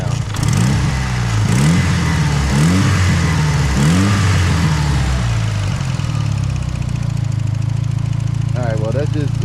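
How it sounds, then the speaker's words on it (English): A 400 hp Mitsubishi Evo 8 idles with a close, steady rumble and a faint ticking from its fuel injectors, while a voice talks over the engine. "that's just injector tick right there"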